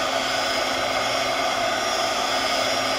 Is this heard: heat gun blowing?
yes